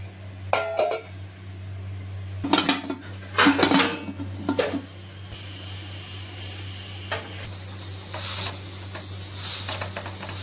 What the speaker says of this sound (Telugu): నానబెట్టిన సబ్బు బియ్యం గిన్నెను అందులో పెట్టి మూత పెట్టి కుక్కర్ మూత పెట్టుకోవాలి